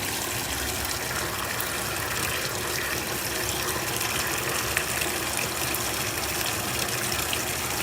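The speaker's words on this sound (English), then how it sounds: "I don't know why the hot water shoots out that little jet that's hitting the pod there." A hot water jet shoots steadily onto a pod, a loud, constant hissing gush that stays even and close throughout, with no talking.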